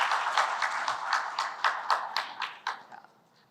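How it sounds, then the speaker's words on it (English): An audience at a telecom labs event claps to welcome a guest. The scattered, rhythmic clapping comes from a modest crowd nearby and fades out toward the end, with no talking. "I would like to welcome him with the claps"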